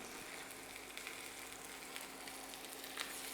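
Chicken thighs brown skin side down in a heavy 12-inch cast iron pan, giving a faint, even sizzle with small pops scattered throughout.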